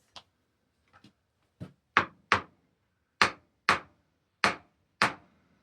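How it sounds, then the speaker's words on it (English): A hammer strikes a metal pelt stretcher in about nine separate sharp knocks, a few faint taps first and then louder, evenly spaced blows, close and alone in an otherwise quiet room. "this sometimes gets stuck, so then you have to hammer it down"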